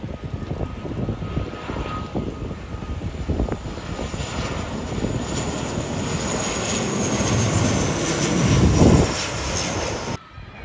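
A large passenger airplane arriving from Bhadrapur in Nepal roars loudly overhead, its engine noise holding steady and then swelling to a peak near the end before cutting off abruptly.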